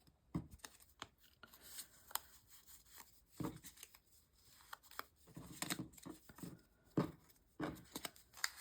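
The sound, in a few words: shuffling cards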